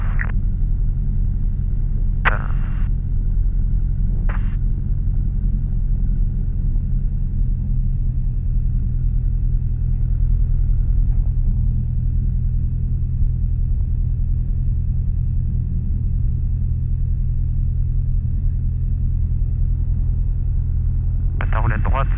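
A light aircraft engine drones loud and steady during the takeoff roll on runway 17, a constant low rumble filling the cabin, with brief radio or intercom clicks and voices over it.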